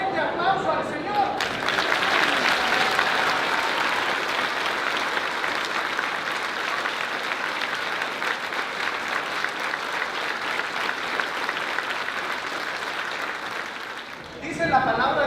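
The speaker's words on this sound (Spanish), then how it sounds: "démosle un fuerte aplauso al Señor" Sustained audience applause fills an Easter Resurrection church service, loud and dense for most of the stretch, starting abruptly after a short moment and tapering off near the end.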